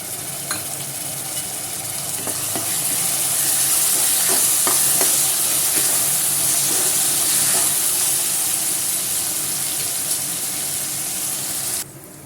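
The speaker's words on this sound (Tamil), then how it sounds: "இஞ்சி பூண்டு பேஸ்ட்டு சேர்த்து நல்லா வதக்கிக்கலாம்" Ginger garlic paste frying with tomatoes in a pan, a continuous close sizzle and hiss with scattered stirring scrapes, steady and loud until it cuts off near the end, no voices.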